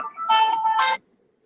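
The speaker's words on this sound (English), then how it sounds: "Damn phone ring" A phone rings with two short electronic melodic chirps in quick succession, clear and close, then stops into silence.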